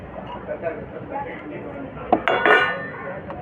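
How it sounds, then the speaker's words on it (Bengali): Stuffed pointed gourds filled with paneer go into a cooking pan of thick masala, a short burst of metal clatter and clinks near the end over a low kitchen background with faint voices. "এবার আমি এই পটলগুলো এর মধ্যে দিয়ে দেবো"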